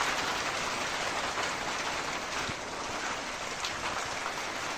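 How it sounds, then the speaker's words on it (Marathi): Steady, dense rain pouring down and hissing on surfaces nearby, an even wash of sound with a few brief louder patters. "पाऊस सुरू झालेला आहे"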